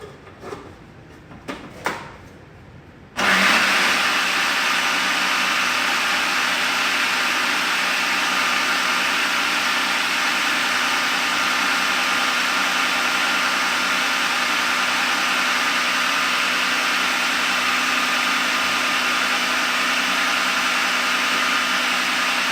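A food processor whirs steadily as it blends hummus, a loud continuous motor drone that starts abruptly after a few brief clicks and handling sounds and runs unbroken to the end.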